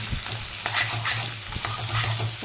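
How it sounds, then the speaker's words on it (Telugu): Rice stirred and fried in a pan, with a steady close sizzle and repeated scraping strokes of the spoon over 2.5 seconds. "ఇదైతే బాగా ఫ్రై అవనిద్దాము"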